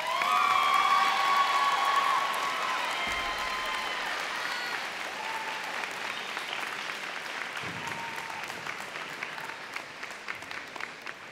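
A crowd at a high school senior convocation applauds an award winner, a long, sustained round of clapping with scattered cheers and whoops near the start, slowly easing in loudness as it goes on.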